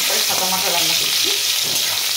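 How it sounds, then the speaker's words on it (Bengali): Fish head frying in hot oil with chilli in a pan at home, a loud, steady sizzle that runs throughout with the crackle and spatter of frying. "সাদা মাথা রান্না করছি"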